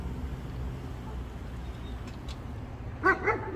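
A police canine gives a couple of short barks near the end, moderately distant, over steady outdoor background noise.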